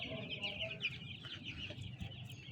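Broiler chickens cluck in a farm coop, several birds murmuring and chattering at low volume over a soft background.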